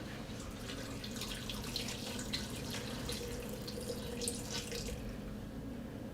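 Broth for an Algerian chorba is ladled from a pot, a soft continuous sloshing and pouring of liquid with faint splashes, close but quiet and without any talk.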